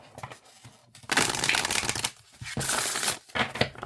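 Oracle cards being shuffled by hand, a few close crisp riffling bursts with brief pauses between them and no talk.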